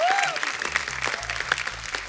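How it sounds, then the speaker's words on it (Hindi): Steady applause from a television studio audience on The Kapil Sharma Show fills the whole stretch, dense and continuous, with a few louder claps and a brief tonal whoop near the start. "जोरदार तालियां"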